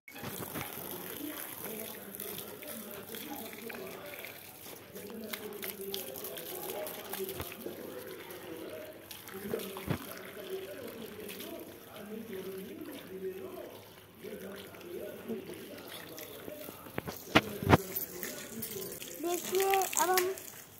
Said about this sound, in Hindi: देखिए अब हम हमारे जूते शूज वॉश कर रहे हैं।